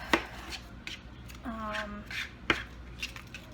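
Knife chopping the skin off vegetables on a board, sharp separate cuts at an irregular pace, with a brief voice partway through.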